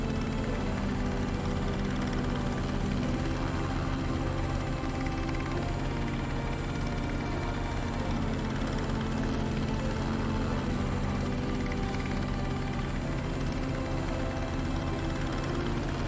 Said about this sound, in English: What's that noise? Is that a helicopter?